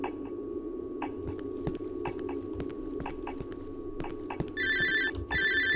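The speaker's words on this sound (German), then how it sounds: "Oh, Telefon." In the horror video game Cry of Fear, a telephone starts ringing near the end with two bright electronic ring bursts, heard over a dim ambient background with scattered clicks.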